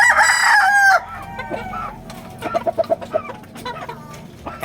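Gamecock rooster for sale in Rosario, Cavite, giving a loud close crow at the start, followed by softer clucking and scattered fowl calls.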